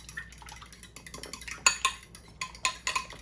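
A utensil scrapes and clinks against a bowl while pumpkin muffin batter is mixed, irregular close taps and scrapes with a few brighter clanks.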